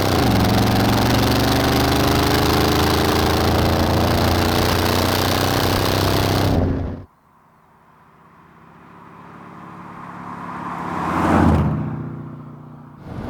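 A sports car's big engine roars loudly and continuously under hard acceleration after a downshift of a couple of gears, then cuts away suddenly before a second, distant rising pass swells and fades.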